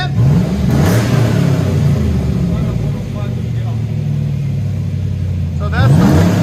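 A cammed Chevy Silverado fitted with Vibrant Ultra Quiet mufflers revs repeatedly, its deep rumbling idle rising into short throttle blips near the start and again at the end, with voices talking faintly over the engine.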